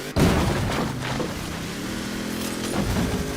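A truck slamming into a brick wall in the Forza Horizon 4 racing game, a sudden heavy boom followed by a sustained rumbling roar of engine and debris that stays loud throughout.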